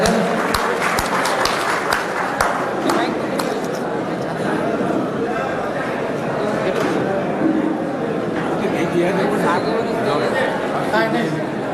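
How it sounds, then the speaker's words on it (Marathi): An audience gathered to welcome a speaker claps in a dense, crackling burst that is strongest at first and then settles into a steady crowd wash, with voices talking throughout. "सर्वांनी जोरदार टाळ्या वाजवून स्वागत करायचं आहे साहेबांचं"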